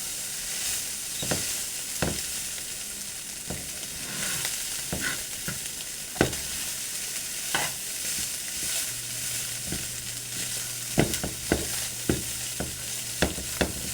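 Ground beef and onions stirred in a hot pan, a steady close sizzle broken by repeated scraping strokes of the utensil, with no talking.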